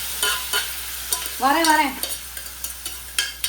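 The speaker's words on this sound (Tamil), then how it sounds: "குடல் சேர்த்துட்டு ஒரு வதக்கு" Mutton intestines are sautéed with masala in a hot pan, a steady sizzle broken by scraping stirs; a voice briefly speaks over the frying.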